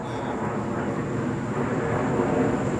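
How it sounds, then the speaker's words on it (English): Broadband airplane roar passes overhead during a pause on a film set, a steady even rumble that fills the whole clip with no speech over it. "Actually, let's wait. The plane."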